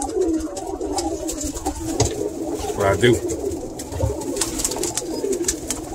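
Pigeons coo and stir close by as they are handled one at a time during a routine check before breeding, their soft cooing and wing rustles running steadily under a voice.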